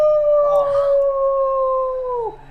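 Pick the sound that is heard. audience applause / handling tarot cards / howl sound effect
howl sound effect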